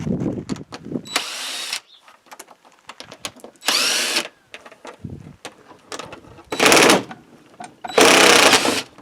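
A power drill spins out big bolts from the front fender area of a KRX side-by-side, running in four loud bursts of a few seconds each. Softer clicks and handling noises fill the gaps between them.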